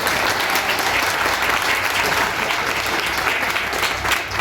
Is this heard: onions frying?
no